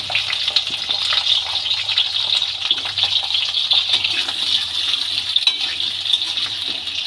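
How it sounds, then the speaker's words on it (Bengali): Potato pieces fry in well-heated oil for spicy Bengali aloo katli, giving a steady, close, dense sizzle with scattered crackles throughout and no talking. "এবার এই তেলের মধ্যে পিস করে রাখা আলুগুলো ভেজে নেব।"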